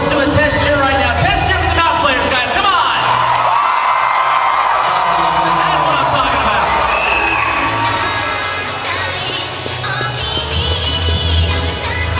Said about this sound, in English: So let's do a test cheer right now.